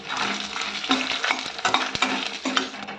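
Tempering spices with dried red chillies crackling and sizzling in a teaspoon of hot oil, with a spoon stirring and scraping against the pan in irregular strokes, close and fairly loud.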